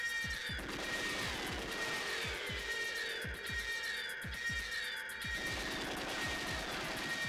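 In the video game GoldenEye 007, bursts of gunfire, rapid percussive shots in quick runs, sit over a constant loud layer of game music and engine-like drone.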